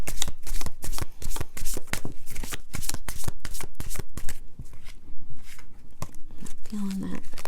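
A deck of tarot cards being shuffled by hand in a quick run of crisp riffling bursts, close and fairly loud, ending with a few softer taps as the deck settles.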